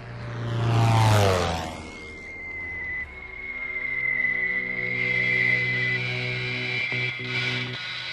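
A propeller aeroplane passes overhead, its engine drone sweeping down in pitch as it flies by, then settling into a steady hum that lingers as it recedes, with no speech.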